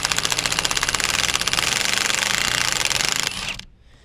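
An impact wrench drives the bolt of a steering wheel puller on a Squarebody Chevy, a dense rapid hammering burst running loud and steady for about three and a half seconds before cutting off abruptly.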